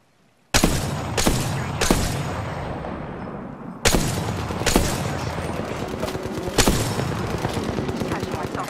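Gunfire from the Apex Legends video game: several loud, sharp shots ring out one after another, then denser bursts of rapid fire with rumbling echoes carry on to the end.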